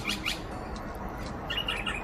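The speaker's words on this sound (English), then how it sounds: "there's another bird, a noisy miner eating it now." Short, sharp calls of a noisy miner bird chirp in a few quick bursts over a steady outdoor hiss, moderately close with no talking.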